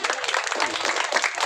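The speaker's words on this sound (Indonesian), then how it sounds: "tepuk tangan dulu semuanya." Dense, steady applause from a crowd, continuous clapping throughout with no pauses.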